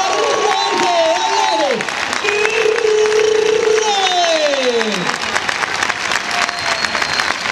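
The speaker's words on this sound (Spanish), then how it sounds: "las palmas tienen que ser más fuertes" Loud, dense clapping from an audience at a comic bullfighting show in Benidorm fills the arena, steady throughout, with shouted voices and calls rising over it.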